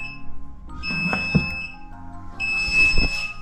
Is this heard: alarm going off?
yes